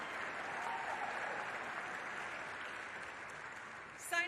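A large crowd at a presidential speech in Detroit about electric vehicle manufacturing applauds and cheers in a dense, steady roar that carries through the whole stretch and fades near the end.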